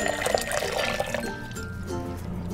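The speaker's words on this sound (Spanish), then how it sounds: "En un tazón voy a estar agregando 3 tazas de agua bien caliente." Hot water pours steadily into a bowl for making gelatin, a brief gushing splash that settles into a softer trickle, close and fairly loud.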